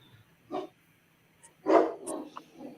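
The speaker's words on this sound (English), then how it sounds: "she's barking to let us know that she wants to" A Neapolitan Mastiff barks from another room indoors, a few deep, muffled woofs spaced over about two seconds, with a short double bark near the end.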